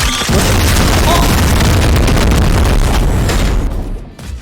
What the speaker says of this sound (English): I shoot rockets at him.